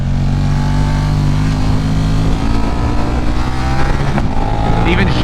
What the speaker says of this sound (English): Let's check out low speed throttle transitions.